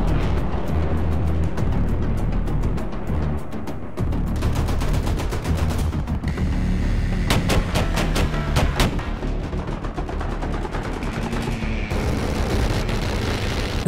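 A-10 Thunderbolt rotary cannon fire in the War Thunder combat game, loud rapid buzzing bursts layered over continuous explosions and battle rumble, with several sharp repeated bursts through the middle and a dense, nonstop barrage throughout.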